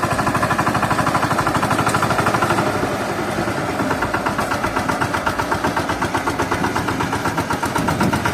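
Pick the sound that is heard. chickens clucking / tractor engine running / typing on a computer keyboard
tractor engine running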